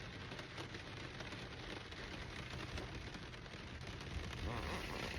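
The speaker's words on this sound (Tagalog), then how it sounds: "Grabe ang ulan ngayon dito sa aming lugar." Heavy rain pours outdoors in Chilliwack, British Columbia, a continuous dense hiss of drops striking surfaces, steady and fairly close, with no clear talk over it.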